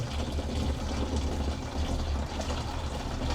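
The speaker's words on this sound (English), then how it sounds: "Put it in our remaining hot water straight into the fermenter" Hot tap water pours steadily into a home-brew fermenter, a continuous moderate splashing and gurgling rush with no pauses and no voices.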